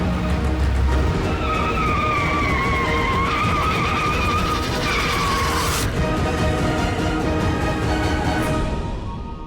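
A car skids with a loud, sustained tire squeal over steady engine noise, the screech wavering before cutting off sharply near the end as the vehicle loses balance on a suddenly punctured tire.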